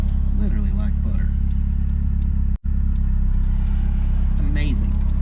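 A 1985 Toyota Celica GTS Turbo coupe drives with a loud, steady engine drone and rumble, with a brief dropout mid-way as it shifts gear, while someone talks over it throughout.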